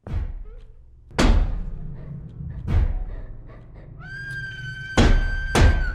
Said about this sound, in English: The doors slam. Once, twice, thrice, followed by a bone-chilling scream.